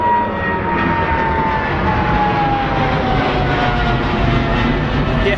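An aircraft with Rolls-Royce engines takes off from runway 09 right at Heathrow, giving a loud, steady, broad engine roar with a whining tonal edge that holds throughout at close-to-moderate distance.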